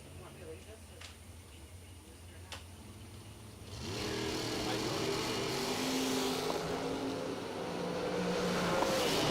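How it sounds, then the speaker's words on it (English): Drag race cars, a Corvette Roadster among them, launch at a racetrack, a loud steady engine roar building partway through under continuous announcer commentary. "Jeffrey Reed Jr., 542 in the Corvette Roadster, right lane."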